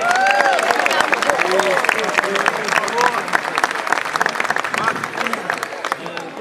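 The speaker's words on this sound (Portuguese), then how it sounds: "penso que eles merecem também uma grande salva de palmas." Loud, sustained applause from a large crowd at the formal ceremony of a village popular festival, dense clapping close by with cheering voices and chatter mixed in throughout.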